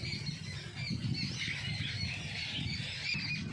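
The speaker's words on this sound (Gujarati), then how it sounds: "કેટલા પક્ષીઓ આવે અત્યારમાં." Many birds call at once in a faint, continuous chorus of overlapping squeals and chirps, heard from a distance.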